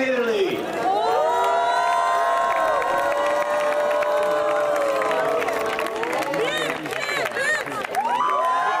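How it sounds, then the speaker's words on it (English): A large crowd at the Quadball Nations Cup 2023 cheers and applauds loudly and continuously for the Italian team, with shrill whoops and shouts rising over the steady roar. "can you give a massive, massive applause to the beautiful Azuros"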